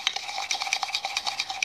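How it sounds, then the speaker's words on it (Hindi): A spoon beats coffee and sugar in a cup, giving quick, regular clinking and scraping strokes, close and fairly loud, with no other sound. "और इसे चम्मच की हेल्प से फेंटना शुरू करेंगे।"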